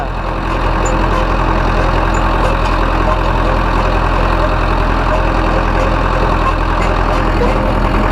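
An Ursus C-4011 tractor runs steadily while pulling a 3.6 m field roller in third gear, its engine a loud, continuous low drone close by with no voices over it.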